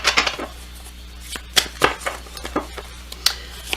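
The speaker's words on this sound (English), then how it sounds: "I'll shuffle for you." Tarot cards are shuffled by hand in a series of quick, crisp riffles and taps, several short bursts spread over a few seconds with quiet gaps between.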